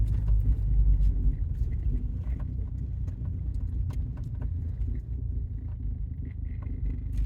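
A camper van driving on a rough, potholed road, giving a steady low interior rumble with occasional light knocks and rattles from the bumpy surface.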